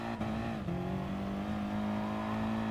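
Audi TT Gr. 4 race car engine in GT Sport at Suzuka, a steady, loud, sustained drone holding high revs with a brief dip in pitch near the start, running continuously throughout.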